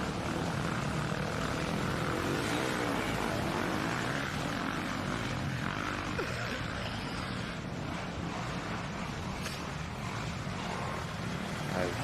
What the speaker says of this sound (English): Jumping on board once again with the Fox FPV drone.